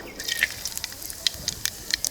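Black cumin (nigella) seeds hit hot oil for tempering a Bengali pabda fish curry, giving scattered sharp crackles and pops over a faint sizzle. Bursts are close and irregular, with no talking.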